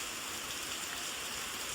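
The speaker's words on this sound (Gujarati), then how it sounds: "ફાઇનલી ફૂલ વરસાદ આવી ગયો છે" Heavy rain pours steadily, with a dense, even hiss of drops on surfaces nearby, constant and loud throughout with no talking.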